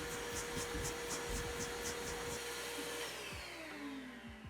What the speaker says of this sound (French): Avec l'aspirateur, frotte bien les bords pour enlever le plus de poussière possible